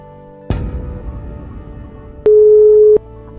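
After a telephone call is hung up, a sharp click gives way to a steady electronic tone that holds for under a second and cuts off abruptly, with no voices present.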